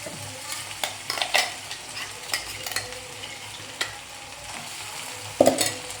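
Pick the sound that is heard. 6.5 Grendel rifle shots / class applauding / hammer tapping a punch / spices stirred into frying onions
spices stirred into frying onions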